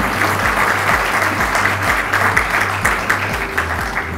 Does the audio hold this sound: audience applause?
yes